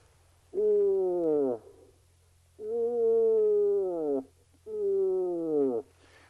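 Three drawn-out, nasal moaning calls, each a second or more long and falling slightly in pitch, separated by short silences; a human voice imitating a moose short call while hunting.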